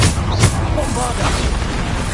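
Bombarda blasting spell explosions in the Hogwarts Legacy video game, a sharp burst early on followed by a steady rumbling barrage, loud and close, with a voice speaking over the din.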